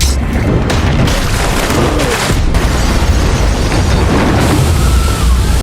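Film explosion of a swimming pool set off by remote detonator, a sustained, very loud roaring blast with rumbling boom and debris crackle throughout, ending abruptly.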